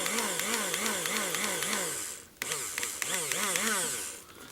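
A small coffee grinder whirs loudly while blending fly-tying dubbing, its motor pitch rising and falling in repeated pulses, briefly stopping midway before spinning up again.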